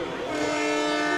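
Train whistle blown at a high school football stadium after a successful extra-point kick, a steady sustained horn-like tone, loud and unbroken, over faint crowd noise.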